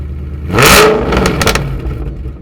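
Engine of an 850 hp Shelby GT500KR kicking over and swelling into a loud, close rev, then dropping back to a rough, throbbing idle.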